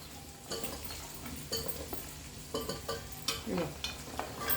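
Sliced beans, carrot and potato fry in a hot pan for vegetable khichdi, with a steady sizzle broken by irregular scraping and stirring strokes close by.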